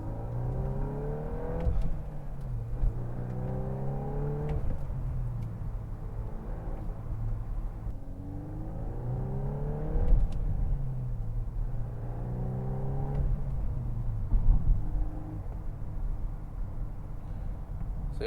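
A manual VW Mk8 Golf R on the road, engine rising and falling through several gear changes with steady tire and wind rumble underneath; revs climb, dip at shifts, and climb again, heard from inside the cabin.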